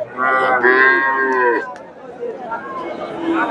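Sahiwal cattle moo loudly and close at a busy Chandaikona cattle market, with one long drawn-out low followed by shorter calls under nearby crowd chatter and people talking.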